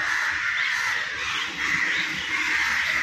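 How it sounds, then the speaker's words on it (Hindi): Several crows caw repeatedly, harsh calls overlapping in a loud, continuous chorus close by, with no talking. "देख लो कौवे कितने सारे आ गए"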